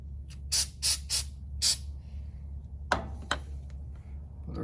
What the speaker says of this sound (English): spray a little more anti-seize